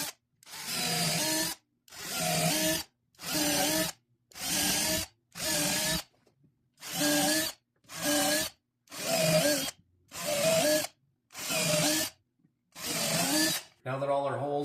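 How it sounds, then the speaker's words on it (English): A power drill bores through holes left unfinished in metal while a LilliPad Marine boat step is installed: about eleven loud, evenly spaced whining bursts of a few seconds each, separated by short silences. "I'm going to drill the 9/64 out that did not go through metal"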